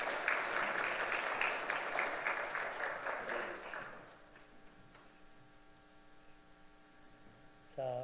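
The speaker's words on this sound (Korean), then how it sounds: "박수로 축하해 주시기 바랍니다" A church congregation applauds during a Sunday worship service, steady close clapping for about four seconds that then stops, leaving a low electrical hum and faint ticking in a quiet room.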